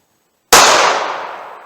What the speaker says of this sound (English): out of the snub nose, the 170 grain bullets.